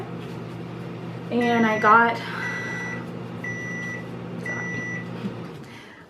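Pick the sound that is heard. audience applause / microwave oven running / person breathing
microwave oven running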